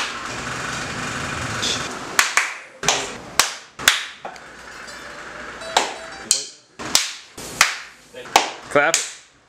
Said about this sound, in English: can you give us a clap